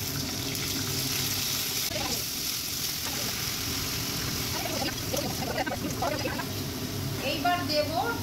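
Bori (sun-dried lentil dumplings) fry in hot oil with bay leaves, dried chili, five-spice tempering and green chili, giving a steady close sizzle and crackle, with faint clatter and voices in the background.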